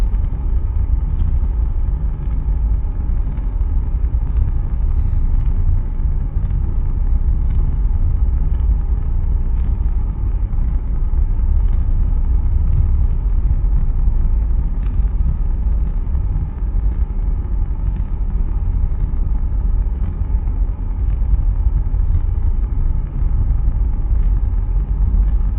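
A Blue Origin BE-3U hydrogen rocket engine test firing, heard as a continuous heavy low rumble with a rough roaring texture that holds steady for over twenty-five seconds, distant and muffled, with no talk.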